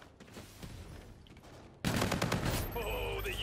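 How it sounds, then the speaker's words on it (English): Bursts of gunfire and bullet impacts in a Call of Duty-style shooter game, with quieter shots at first and then a loud, dense volley with rattling fire that runs continuously to the end. "fucking bullets be going that quick"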